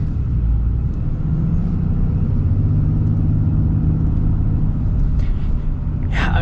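A 2024 Ram 3500 Big Horn pickup truck's engine rumbles loudly up close, a deep steady drone building as the truck accelerates, with road and cabin noise underneath.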